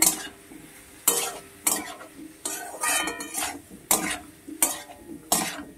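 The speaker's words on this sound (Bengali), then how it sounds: "দেখো ভালো করে ভেজে নেব" Ground coriander fries in a pan under a soft sizzle while a utensil stirs and scrapes against the metal, giving sharp, repeated clinks at an uneven rhythm, close by and with no talk.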